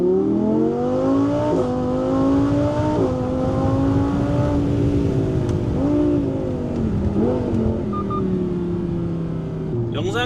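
Audi R8 V10 5.2 with a full custom performance exhaust, revving loudly and close by in smooth rising and falling sweeps, its deep, soft yet rich tone holding steady throughout.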